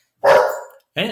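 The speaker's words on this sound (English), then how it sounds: "That's our dog Millie." Millie, a pet dog, lets out two sharp close barks, the first longer and the second shorter after a brief pause, with a person speaking briefly.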